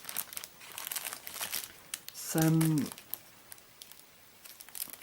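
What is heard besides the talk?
rustling of paper packaging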